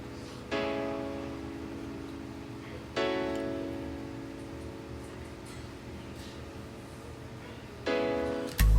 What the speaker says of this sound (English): It's the acoustic piano in chord Triton